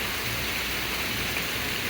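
Rain from a strong thunderstorm in Pittsburg, Kansas pours down in a steady, dense hiss, close and fairly loud, with no voices.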